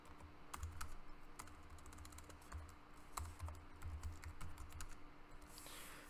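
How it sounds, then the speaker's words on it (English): Fingers type Cisco switch configuration commands on a computer keyboard, a close, continuous patter of keystrokes with a few louder key hits, and no voices. "And then we type in the address."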